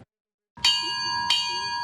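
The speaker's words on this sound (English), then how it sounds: "The sound of a bell," A memorial bell tolls for ships lost in the Battle of the Atlantic, two clear resonant strikes a little under a second apart, the second ringing out over the fading hum of the first, loud and alone.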